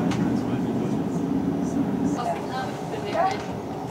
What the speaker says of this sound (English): Okay, so we're on the train, the rail jet,